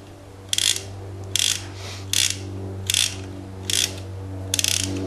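Transparent magazine of a RAP4 T68 M4 paintball gun being wound up, six short ratcheting bursts of clicking at a steady rhythm, close and clear over a low background hum.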